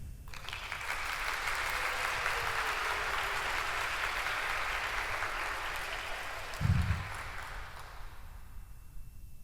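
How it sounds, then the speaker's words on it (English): Audience applause for a speaker introduced on stage at a Web3 conference in Miami, a steady broad wash of clapping that holds for several seconds before fading, fairly distant and without voices. "I'd like you to put your hands together, first and foremost, for Near Foundation"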